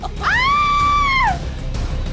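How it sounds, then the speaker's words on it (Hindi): A woman lets out a single sustained scream of fear, high and piercing, lasting about a second over a low dramatic ambient bed as an audio-drama horror effect. "डर के कारण चीख पड़ी"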